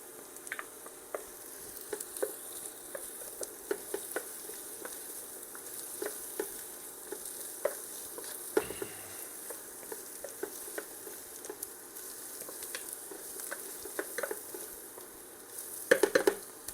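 Garlic frying in a pan for a broccoli cheddar soup, a quiet, continuous sizzle dotted with small crackles and pops, plus a brief scrape of stirring near the end.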